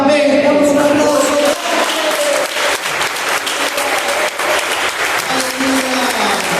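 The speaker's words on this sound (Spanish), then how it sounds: "Damos un aplauso." Church congregation breaks into loud, sustained applause, a dense wash of many hands clapping close by for several seconds, with a voice faintly audible in the mix.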